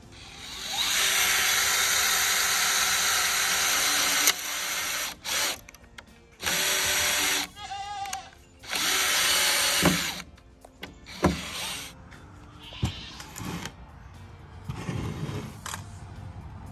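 Power drill driving screws into pallet wood in short repeated bursts of whirring, with pauses and some clunks and handling noise between runs, fairly close.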